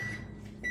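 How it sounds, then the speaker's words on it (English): A microwave oven softening butter for classic blondies, with a low steady hum and a faint tonal whine that briefly rises near the end, close and alone. "Now you gotta microwave it"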